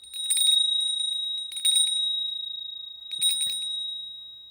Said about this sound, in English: ringing the bell of abundance